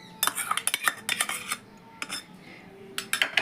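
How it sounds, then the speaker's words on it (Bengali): Flour is mixed with oil and whisked yogurt in a bowl, with quick, repeated metal clinks and scrapes of a utensil against the bowl in short close bursts and brief pauses. "এবার এগুলোকে আমি সুন্দরভাবে মেখে নেব।"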